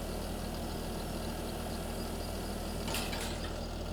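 A New Holland tractor engine in a farming video game idles steadily at a low rumble, constant and unchanging throughout, with a brief hiss-like burst near the end; no one speaks.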